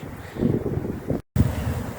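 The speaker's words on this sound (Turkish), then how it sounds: "güneşli ama soğuk esen bir rüzgar var" Cold, steady wind at a beehive site buffets the microphone with a low, rumbling roar, briefly cutting out for a moment before blowing on.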